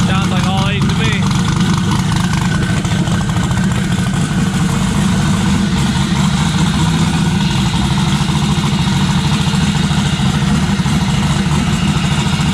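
A V8 car engine runs steadily after start-up while warming on a dyno, a loud, constant low rumble with an even idle throughout, no rise in revs.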